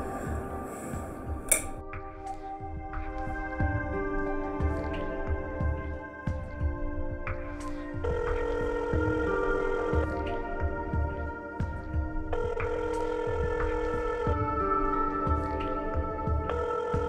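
A telephone rings repeatedly and goes unanswered, its steady tones sounding over dense background music that plays throughout.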